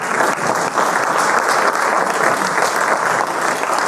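Conference audience at a quantity surveying event gives a resounding round of applause while welcoming a professor to the podium: dense, loud, steady clapping that fills the room without a break.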